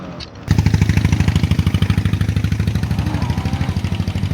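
Motorcycle engine revving hard during a wheelie attempt, a close, loud burst that settles into a rapid, pulsing throb which slowly fades.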